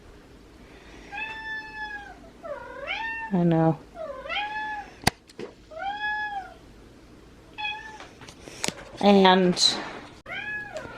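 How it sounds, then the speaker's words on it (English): A house cat meows repeatedly in clear, rising-and-falling calls spread across the stretch, some close and loud, with a brief spoken phrase from a person in between. "I still have a cat also."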